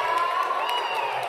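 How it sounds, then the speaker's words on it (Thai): An audience at a ladyboy beauty pageant gives sustained applause and cheering, a steady wash of clapping that holds at even loudness without pause. "เอาเสียงปรบมือให้กับคนเชิญคำถามครับ"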